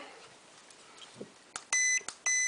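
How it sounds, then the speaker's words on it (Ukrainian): The beeper of a Chinese electronic load sounds loudly in two long, shrill beeps with short clicks between, after a quiet stretch of faint background noise. "Піщалку раджу заліпити, то вона дуже гучна"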